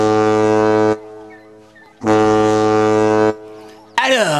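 A voice imitates a ship's foghorn in two long, loud, steady low blasts separated by a short pause, with a brief third call starting at the end.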